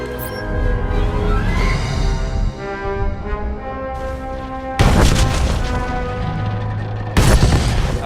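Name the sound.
explosive charges detonating at the Gormak cannon in SWTOR video game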